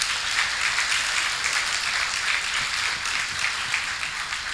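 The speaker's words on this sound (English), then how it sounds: "Give yourselves a round of applause for caring about Kenosha." Steady dense applause from an audience at a State of Downtown Kenosha civic event, a continuous even wash of clapping with no pauses.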